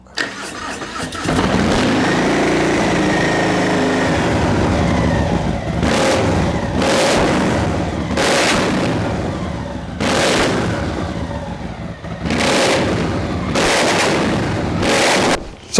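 A supercharged 250cc Honda motorcycle engine, rebuilt, starts and idles loudly, then revs hard in repeated sharp bursts toward very high rpm, each blip rising and falling over a steady close-up idle.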